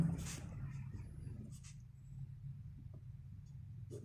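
Writing on a board during a Class 9 probability maths lesson, a series of soft, scratchy strokes in short bursts, faint and close, with no one talking.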